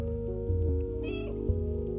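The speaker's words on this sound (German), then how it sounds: "Miau." A cat meowing in the video game Stray: one short, clear meow near the middle, close and distinct over a steady tonal game soundtrack.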